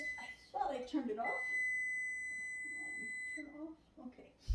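A kitchen timer goes off while maple fudge is being made, giving a steady electronic beeping tone that holds for about two seconds under a person talking in a kitchen.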